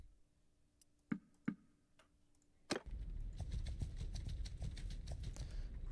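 Horse hooves clip-clopping in a snowstorm strategy video game: a few sharp separate clops, then a dense, busier stretch of overlapping game sounds with many hoof clicks, fairly loud, no speech.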